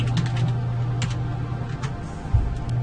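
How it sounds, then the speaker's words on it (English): Rapid clicking keystrokes on a computer keyboard come in quick bursts, close and clear over a low steady hum, with no voices. "I'm going to type in GNOME Terminal"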